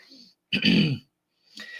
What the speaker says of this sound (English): You're going to need to clear your throat every 5 seconds now, sucker.